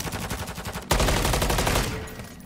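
Rapid automatic gunfire from an upgraded weapon in Warzone 3 zombies mode, a fast rattling burst followed by a louder, denser volley that fades toward the end, close and dominant.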